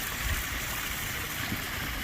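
Steady broadband water flow from a waterfall at a 35,000-gallon koi pond, a continuous close splashing rush with no other sounds on top.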